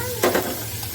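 Onion, green chili and curry leaves hit hot oil in a pan, giving a brief, soft sizzle with a quick stir.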